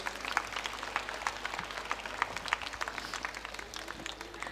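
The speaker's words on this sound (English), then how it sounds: "A big round of applause for my teachers." Faint, distant applause at a school annual day celebration, scattered crisp claps repeating unevenly over a thin background hum, sounding like a hall audience heard from far off.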